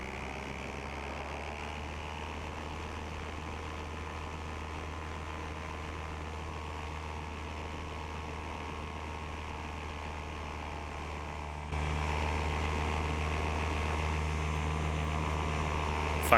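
A paramotor engine in flight drones steadily and loudly at close range, then its note abruptly shifts and swells louder for the last few seconds.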